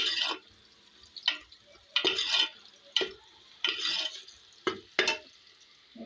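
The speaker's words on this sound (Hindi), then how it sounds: "साथ में प्याज ब्राउन कर रही हूँ।" Onions are browned in a pan while being stirred, giving about seven short, scraping, sizzling bursts at an uneven pace with quiet gaps between them and no talking.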